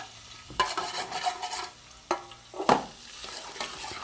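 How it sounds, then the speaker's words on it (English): Peas and red and green peppers stirred in a frying pan, with a utensil scraping and clattering against the pan over a soft steady sizzle, fairly close. "Just stir it around about a minute or so."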